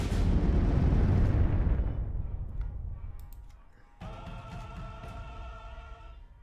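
Bombing raid explosions in the card game KARDS: a loud, rumbling blast that slowly fades, followed by a sharp crack and a bright, ringing metallic burst.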